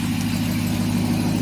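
A 2022 Dodge Ram 1500 TRX pickup with a supercharged 6.2-liter V8 and factory exhaust idles up close, a loud, even, deep rumble holding steady throughout.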